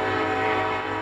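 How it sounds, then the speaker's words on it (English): A train whistle holds one loud, sustained, steady tone throughout the brief moment, heard alone without any voices. "I automatically make my voice a little louder so that you can hear me over the train whistle"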